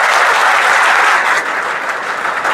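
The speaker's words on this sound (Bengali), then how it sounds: "ভাইদের জন্য জোরে একটা হাততালি দাও।" A crowd of trainees at an Indian Army defence academy claps loudly and steadily for a few seconds, with no talk.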